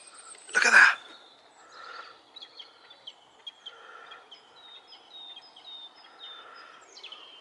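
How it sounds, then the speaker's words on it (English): Birds sing and chirp outdoors on a quiet, still day, with faint, scattered high calls spread through the clip after one brief louder burst of noise near the start. "All you can hear are the birds"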